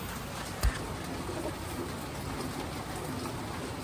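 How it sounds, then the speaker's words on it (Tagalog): Steady rain falls outside at night, a dense even hiss that fills the whole stretch, with one brief low thump near the start and no talking. "Kung naririnig niyo yung ulan"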